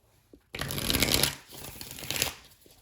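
A quick, close riffle of a tarot card deck being shuffled, a crisp flurry of flicking cards lasting about two seconds.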